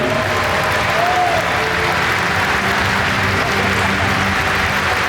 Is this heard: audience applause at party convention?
yes